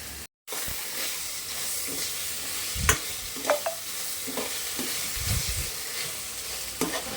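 Gobi fried rice with soy sauce and tomato ketchup sizzles in a pan while a spatula stirs and scrapes, giving several distinct clanks and scrapes over a steady frying hiss.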